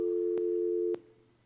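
A telephone busy signal drones as a steady tone on a dead phone line, then cuts off abruptly, leaving a faint hum behind.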